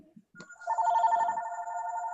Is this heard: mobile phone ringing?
yes